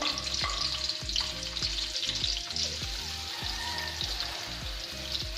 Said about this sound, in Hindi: हम सबसे पहले इसमें अनियन डालेंगे, प्याज डालेंगे,